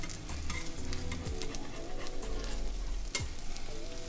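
A cheese omelet sizzles steadily in a hot pan, with a brief scrape and stir near the end, close and fairly loud with no talking.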